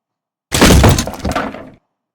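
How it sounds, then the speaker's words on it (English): A wood-hit destroy sound effect for a table breaking in a Roblox Rooms-style game: a loud, crunchy crash lasting just over a second that quickly cuts off into silence. "And then wood hit for the destroy sound."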